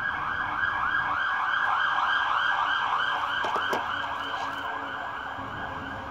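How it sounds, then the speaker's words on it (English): An ambulance siren wails in a steady rising-and-falling cycle, loud and continuous, with traffic rumble beneath and a few sharp clatters partway through. "that's an ambo."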